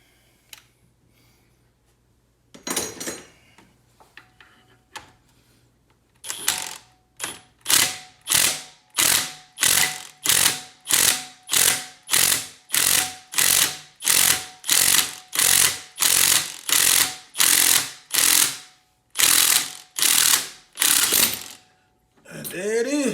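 A ratchet or pulling tool rapidly clicks and bumps while a harmonic balancer is pulled off an LT4 engine, about twenty loud evenly spaced pulses after a few scattered earlier knocks and a quiet start.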